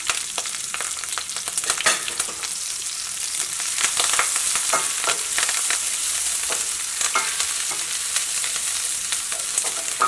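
Crushed ginger, garlic, curry leaves and green chilies fry with cumin seeds in hot oil, a loud close bubbling sizzle broken by frequent stirring scrapes and crackles throughout.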